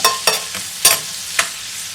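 Garlic and thyme cook in butter in a pan while a spoon rolls them around, giving a close, bright sizzle broken by a few sharp spoon scrapes and clinks, with no one talking.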